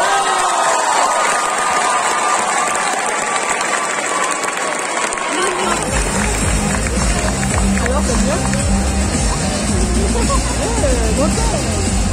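Loud, sustained applause and cheering from a big crowd at a cosplay contest in Nantes, greeting an Erza cosplayer from Fairy Tail. Dense clapping and shouting fill the whole stretch, and deep rumbling stamping or music joins partway through.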